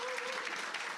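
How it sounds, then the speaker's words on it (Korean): Brief burst of audience applause at a speaker introduction during a Korean makeup lecture event, steady crowd clapping filling the whole second, fairly loud and close. "큰 박수로 부탁드리겠습니다."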